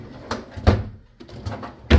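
A storage drawer in a Universal Studios Cabana Bay hotel room, an accessible room, is opened or closed, giving a few close, dull thumps and sliding knocks spread over two seconds.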